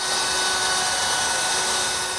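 A router with a 3/8 inch radius round-over bit shaping the inside and outside edges of a wooden hall seat gives a steady, loud, high-pitched whine that holds constant throughout.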